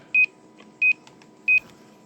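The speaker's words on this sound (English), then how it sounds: "Go to Roger beep. So there's our little beep." Custom roger beep from a Stryker SR955 V2 CB radio: three identical short electronic tone bursts, evenly spaced and clear against a quiet hiss.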